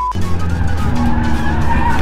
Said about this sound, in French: Là, ça drift aussi, quoi.